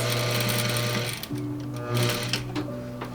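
A sewing machine stitching lace onto a wedding dress during an alteration, running steadily with a fast mechanical whir and tick, close and continuous, its pitch shifting as the speed changes.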